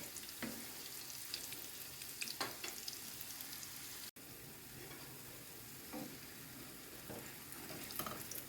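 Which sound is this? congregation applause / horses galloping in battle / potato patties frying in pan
potato patties frying in pan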